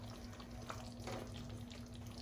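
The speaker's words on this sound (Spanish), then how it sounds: "vamos a incorporar un poquito de agua para que se termine de cocinar sin que se nos reseque tanto" Water poured into a hot pan of chicken cooking in Coca-Cola, a steady splashing hiss mixed with a low electrical hum, continuous and fairly quiet.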